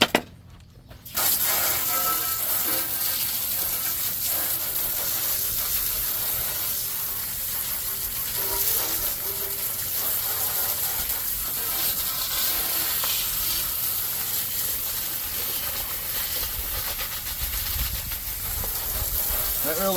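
A steady, close hiss of water spraying dirt off tiller tines runs almost unbroken for the whole stretch after a brief quiet start.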